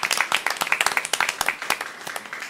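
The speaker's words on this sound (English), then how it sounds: "let's give them a round of applause just for that" A small group claps at a Kingsport city Board of Mayor and Aldermen meeting, distinct individual hand claps forming brief, uneven applause nearby that thins out toward the end.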